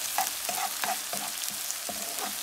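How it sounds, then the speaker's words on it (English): Ginger, garlic, onion and sambal frying in a pan, with a close sizzle under quick regular scraping and tapping as the mixture is stirred. "So I just need to fry this"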